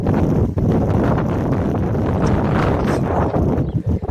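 Heavy wind buffets the microphone in a continuous loud low roar in an open farm field, with gusts swelling and dipping and nothing else clearly audible.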